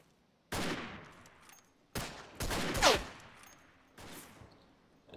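Gunshots in the World War I shooter Verdun: four loud, separate rifle-like reports with ringing tails, spaced over a few seconds, each standing alone without talk.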